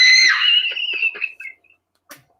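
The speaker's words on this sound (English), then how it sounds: "Tell me that scream isn't impressive." A horror movie scream played back from a video: a loud, high, sustained shriek that wavers and breaks into gasping fragments before trailing off, followed by a short faint burst.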